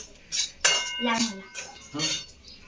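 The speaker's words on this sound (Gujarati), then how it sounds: "આમાં નાની રવાનો લોટ નાખી હલાવવાનો છે, અને હવે હલાવવાનું છે." A spoon stirs and scrapes fine semolina through hot oil in a metal pan while making sheera, giving a few soft scraping, clinking passes close by with no talking.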